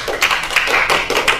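Audience clapping at an Indonesian religious sermon gathering, a short burst of several hands clapping at once with uneven rhythmic peaks, close and fairly loud, with no talking.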